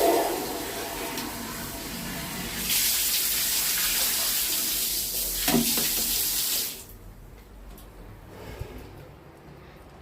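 Tap water runs steadily into a sink at home, a loud broadband rush that starts partway in and cuts off near the end, leaving a quiet room.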